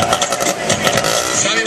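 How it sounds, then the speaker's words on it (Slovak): A stunt motorcycle riding on two wheels at a monster truck show roars loudly and steadily nearby, its engine drone mixed with arena noise and a voice talking over it. "Sami môžete vidieť, že Johnny veľmi obľúbuje jazdu na dvoch kolesách."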